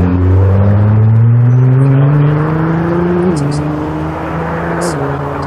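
Ferrari 458 Spider sports cars at a Paris rally in Ouzouer-sur-Trézée, engines droning loudly nearby with rising pitch as they pass one after another, with people talking over the engine noise.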